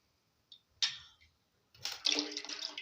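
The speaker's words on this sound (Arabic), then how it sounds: "راح احط مي شوي من هي وشويه مي من مرقه الفروج" Short splashy bursts of water and chicken broth poured into a cooking pot for Iraqi rice: a brief drip, a quick splash, then a longer steady pour near the microphone, with no talking.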